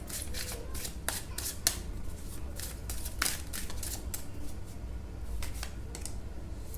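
Tarot cards are shuffled and drawn from a deck in a series of close, crisp riffling and flicking bursts with short pauses, fairly soft against a low background hum.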